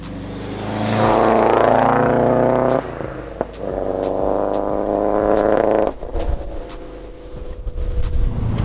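Subaru WRX fitted with a Nvidia R400 catback exhaust revs up loudly and close, the engine note climbing, dropping and rising again in a second strong rev before falling back toward idle.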